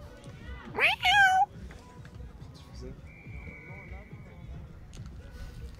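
A person imitates a cat's meow, one short rising-and-falling vocal mew over steady crowd noise at a football match between Sevilla and Bordeaux, followed by a faint tone and background chatter.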